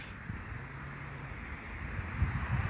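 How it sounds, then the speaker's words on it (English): A steady breeze rushes past the microphone outdoors, a continuous broad hiss with low buffeting gusts that swell near the end. "A little breezy."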